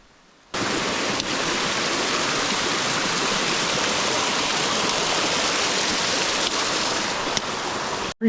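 A mountain creek in a shaded rocky bed in Kananaskis Country, its steady broadband rush of flowing water close and continuous, starting abruptly and holding even for the whole stretch with no voices.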